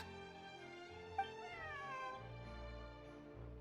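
A cat in the video game Genshin Impact meows with a drawn-out, wavering cry, moderately loud and alone over soft background music.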